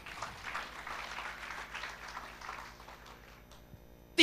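Congregation applauding during a Sunday church service, a soft, moderately distant patter of clapping that fades out, ending with a sharp loud knock.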